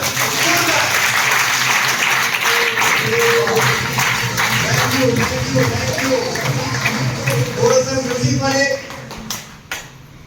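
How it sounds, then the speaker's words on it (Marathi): A crowd at a lucky draw event claps loudly and steadily, dense applause that carries on beneath a speaking voice before it thins out near the end. "सर्वांनी एकदा जोरदार टाळ्या"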